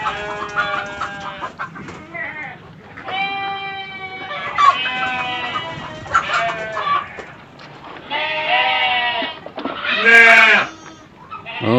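Goats bleat repeatedly and chickens cluck in a goat pen, several overlapping nearby calls in irregular bursts with little talk.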